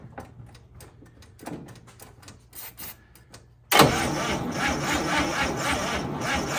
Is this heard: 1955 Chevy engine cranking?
yes